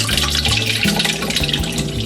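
Tomato sauce from a large can is poured into a large cooking pot, giving a loud, close, continuous gurgling liquid pour.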